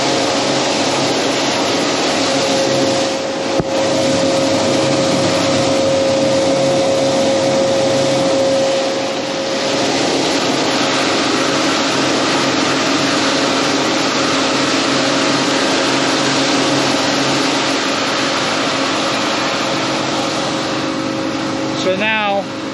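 Sprayer pump motor running steadily as it recirculates antifreeze through the lines during winterizing, a constant loud whirring hum with a faint tonal whine held throughout, with a voice talking over it.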